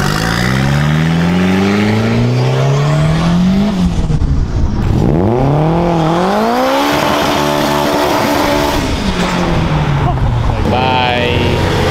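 Cars leaving a car meet in Rochester, Minnesota accelerate away, engines revving loudly with pitch climbing through the gears as they pass close and fade, with a few voices nearby.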